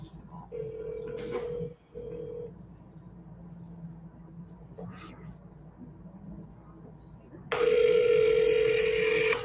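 Telephone tones sound during a seller call, with a short steady tone early on, faint background murmur in between, then a louder sustained ringback tone near the end, with no voices over it.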